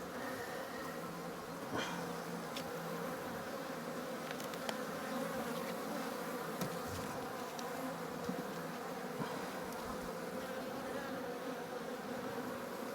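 Honey bees buzz in a dense, steady drone around an open hive during a beekeeping inspection of swarms and splits, continuous and close with no talk.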